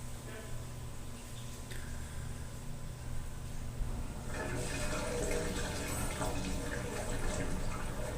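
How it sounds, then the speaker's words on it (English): A toilet in a Family Dollar store in Sheboygan, WI, is flushed during a drain line check. Steady background hum gives way midway to a louder, sustained rush of flushing and draining water that keeps going to the end. "Go ahead and flush the toilet."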